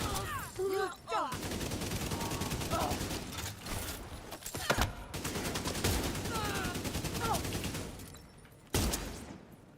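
Video game gunfire, rapid fusillades of shots running almost continuously with mechanical clicks and a few sharper louder bursts, fairly quiet overall, with a voice talking at times.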